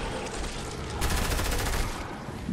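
Gunfire in the Fortnite video game, pistol shots among a dense burst of rapid shots that swells loudest in the middle, with faint talk underneath.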